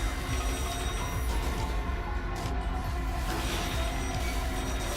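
A rotary telephone bell rings continuously in the Final Fantasy XIV deep dungeon, a steady metallic trill over a dense droning game soundtrack, with no talking.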